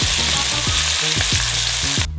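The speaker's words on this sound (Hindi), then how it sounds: "केवल इसे डीप फ्राई करना बाकी है।" Flour-battered onion deep frying in oil, a dense, loud, bubbling sizzle with rhythmic low bubbling bursts, close and continuous, no voices.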